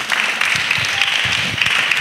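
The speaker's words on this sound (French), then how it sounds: "Acclamez pour vous-même." A crowd of children at a church gathering claps together in brisk, steady applause, loud and close, with a few voices faintly mixed in.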